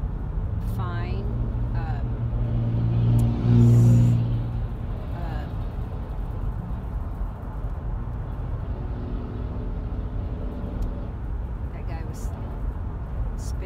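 An old car speeds past on a gravel road, its engine rising to a loud peak as it goes by and then fading, with steady road and wind noise throughout.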